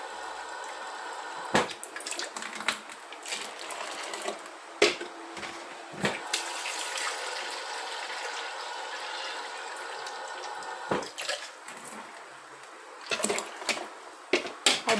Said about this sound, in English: This is water. I'll be adding it and pouring it in here.